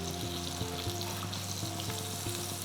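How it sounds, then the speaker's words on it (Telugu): Paneer frying in a hot pan while being stirred, giving a dense, even sizzle with light stirring taps, close and steady with no talking. "సో ఎప్పుడు కలుపుతూ ఫ్రై చేస్తూ ఉండాలి."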